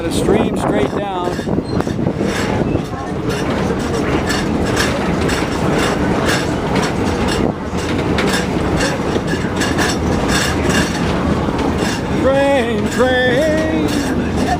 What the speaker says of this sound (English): On a train.